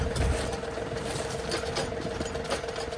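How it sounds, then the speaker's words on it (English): Tractor engine at a dead idle during a bin anchor install, a steady mechanical drone with a faint rhythmic chatter that holds even and unbroken, close by with no talk. "The tractor's at a dead idle,"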